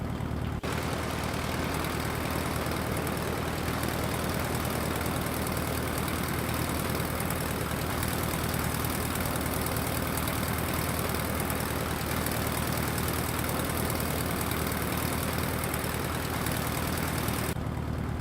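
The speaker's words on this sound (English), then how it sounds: "Listen to those engine sounds." A Piper Arrow III engine idles in the X-Plane 11 game, a steady, droning hum with a low throb that stays even throughout, no voices.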